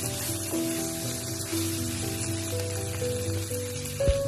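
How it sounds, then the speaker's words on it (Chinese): Fried loaches stir-fried in a wok, giving a steady hiss with fine crackle throughout and a brief louder clank near the end. "再把煎好的泥鳅加进来，继续翻炒均匀"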